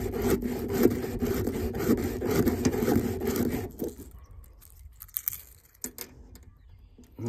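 A filing pad files down the nose of a fishing lure in quick, close rasping strokes for several seconds, then drops to a few quieter, scattered scrapes.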